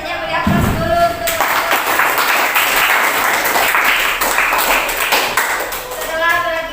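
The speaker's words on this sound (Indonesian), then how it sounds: "Beri aplaus dulu untuk" Classroom applause from students: brisk, dense clapping that swells and carries on for several seconds with a few taps and voices mixed in.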